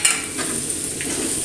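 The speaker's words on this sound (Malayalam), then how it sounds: "നന്നായിട്ട് മിക്സ് ചെയ്യാം." Salt and slit green chilies sizzle steadily in a hot pan while a spoon stirs through them, a close, continuous frying hiss with light scraping.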